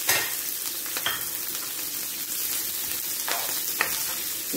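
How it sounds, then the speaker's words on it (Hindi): Onions fry gently in a pan for chicken shashlik, giving a steady broadband sizzle with a few sharp stirring scrapes, close and fairly loud, no voices. "फिर इसमें प्याज डाल दें। इनको हल्का हल्का फ्राई करना है हमें।"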